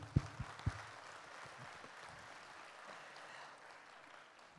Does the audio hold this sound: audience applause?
yes